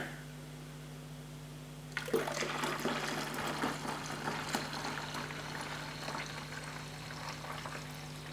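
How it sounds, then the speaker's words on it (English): Three liters of cooled, sterilized water pour steadily into a brewing keg for an amateur homebrew batch, a continuous splashing rush that starts abruptly and holds at moderate volume over a low steady hum. "Now I'm gonna add this extra 3 liters of cooled water."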